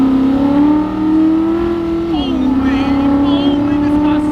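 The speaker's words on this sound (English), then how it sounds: "this car sounds amazing!" A loud, throaty 600-horsepower 363 stroker V8 in a 1965 Ford Mustang drones steadily close by, its pitch rising gradually, dipping briefly, then climbing again as it accelerates.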